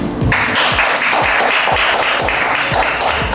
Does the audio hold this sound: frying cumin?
no